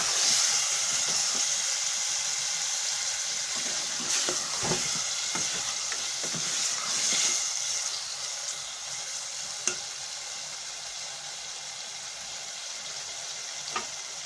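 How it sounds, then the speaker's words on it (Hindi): Potatoes stirred and mixed with spices in a frying pan, steady close sizzling under repeated scraping and clinking strokes of a spoon, gradually softening toward the end. "अब मैं आलूओं को मसाले के साथ मिक्स कर लूंगी।"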